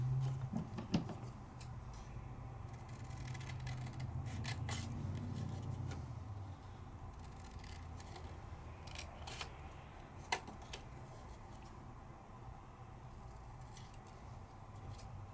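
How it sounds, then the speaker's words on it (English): Scissors snip through embossed paper during a papercraft session, giving a few sharp cuts and light rustles up close against a steady low background hum, with no talking. "And then let's just trim it on out."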